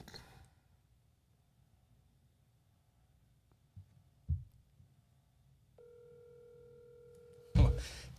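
A phone call rings out over a speakerphone as a faint, steady electronic line tone lasting about two seconds in an otherwise quiet room, with a few soft knocks before it and a louder thump at the end.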